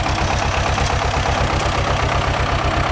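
A tractor engine idles steadily and loudly during haymaking, a continuous low, pulsing rumble with no voices over it.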